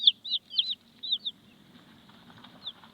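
A few backyard chickens give a short run of clucks up close, then fall quiet apart from one last call over faint background noise.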